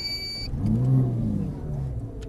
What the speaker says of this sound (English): hit that engine start button